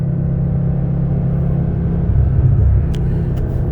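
A 2018 Audi RS3 with full bolt-ons on E85 fuel rolls in second gear at 50 mph, its engine giving a steady, loud, low rumble from inside the cabin that swells slightly toward the end, with no talking.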